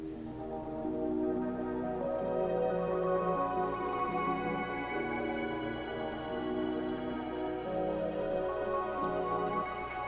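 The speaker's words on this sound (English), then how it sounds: "this effect on it, kind of like this abstract crystal reverb." A shimmering, glassy synth sample washed in bright, ringing crystal reverb in Ableton, sustained tones layering and blurring together at a steady, moderate level.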